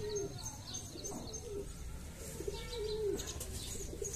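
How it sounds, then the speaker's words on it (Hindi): A white pigeon coos softly several times in low, rolling calls over a quiet background hum. "ये है जी कबूतर"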